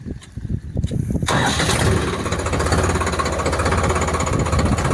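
New Holland 3600-2 diesel tractor engine starting: a few cranking bursts, then the engine catches and settles into a loud, steady, rough idle up close.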